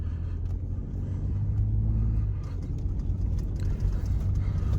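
A Ford Expedition Max on Falken Wildpeak A/T4W tyres driving at low speed, with a steady deep engine and road rumble heard from inside the cabin.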